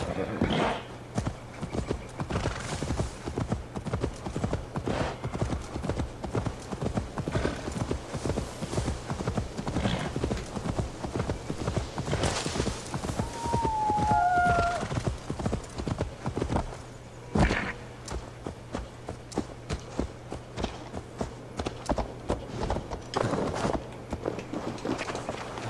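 Steady clip-clop of horse hooves from Assassin's Creed Valhalla runs continuously and fairly close, with a brief faint whinny partway through and light thuds mixed in.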